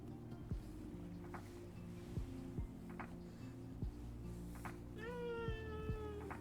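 A cat meows once, a drawn-out rising-then-falling cry near the end, over a steady low hum and faint clicks.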